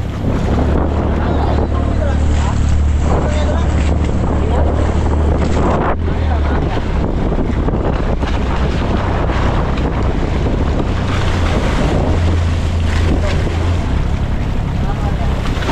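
Loud, constant wind roars across the microphone aboard a boat at sea, with waves slapping and an engine droning underneath.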